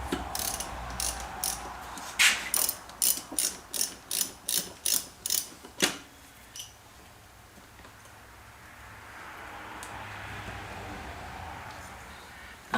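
A ratchet wrench clicks on a 7/16 head while working on a 1920s Henderson Four engine. A quick run of loud, close, evenly spaced clicks is followed by a faint, hollow rushing background.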